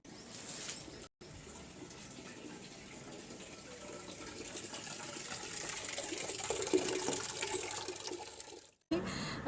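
Water is poured onto garden plants, producing a steady, soft splashing gush that builds slightly over about eight seconds and breaks off briefly twice.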